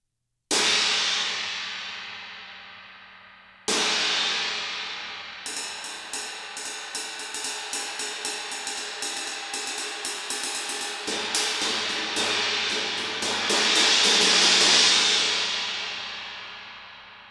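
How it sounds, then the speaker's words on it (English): Trashy crash cymbal on a drum kit struck hard twice and left to ring, then hammered in a rapid run of repeated hits with a washy, sizzling decay, loud and alone with no voices. "This is my trash crash"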